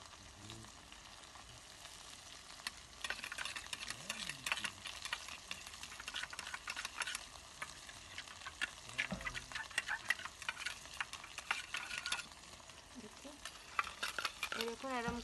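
Spice paste fries with a little water for a Pangash fish curry, a faint crackling sizzle overlaid by many quick scraping and tapping stirs, growing busier toward the end.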